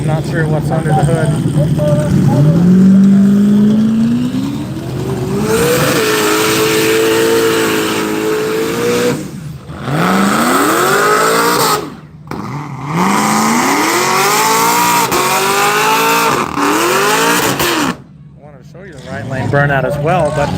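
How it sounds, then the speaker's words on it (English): A drag race car does a burnout at Hypoxia Dragway in Evanston, Wyoming, its engine revving loud and rising in pitch for several seconds, then revving again in bursts that cut off sharply. Speech is heard over parts of it. "Burnout as well, but you probably couldn't see it very well."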